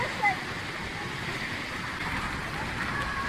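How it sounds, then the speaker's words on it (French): Strong bubble jets churning in a warm spa pool at about 38 degrees, a dense, continuous rushing and fizzing wash of water with no break. "Elles vont fort les bulles, là, par contre."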